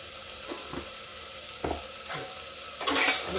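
Tomatoes with salt sizzle in a pan over a high gas flame, with a steady frying hiss broken by several stirring scrapes and clinks from the spoon.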